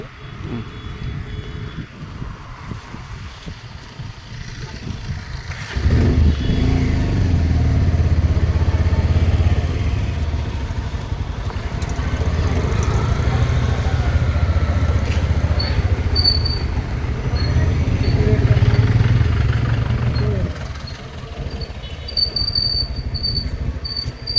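Motorcycle engines rumble steadily at close range in a bike parking area at the Kasapuram Anjaneya temple, rising loud after a quieter start and holding for about fifteen seconds before easing off.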